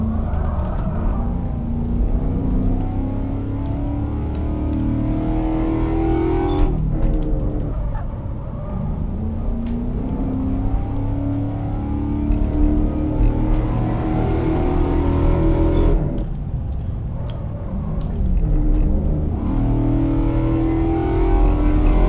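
Spec P71 police sedan with an automatic transmission driven in Assetto Corsa, its engine droning loud and steady, the pitch climbing through each gear before dropping back at two upshifts, continuous with no talk.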